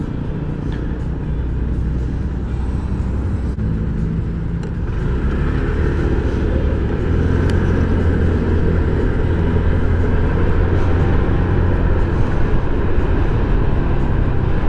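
Steady traffic rumbles along a road heading toward the C5 Southlink Expressway entrance, a continuous loud broadband roar of passing cars with a low engine drone throughout and no talking.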